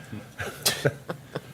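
A single sneeze in a meeting room, sharp and close, surrounded by brief coughs or throat sounds.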